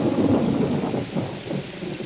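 A thunderstorm with a deep, rolling rumble of thunder over dense, steady rainfall, loud and close throughout with no voices.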